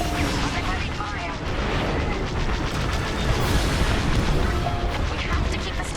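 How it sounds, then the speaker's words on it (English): Heavy blaster fire and booming explosions from a Star Wars Squadrons space battle roar densely and continuously at close range, with voices speaking over the barrage. "Heavy fire."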